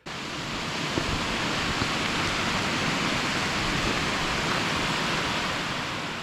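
Steady, broad rushing of a flowing mountain creek near No Name Lake, loud and continuous throughout with no voices.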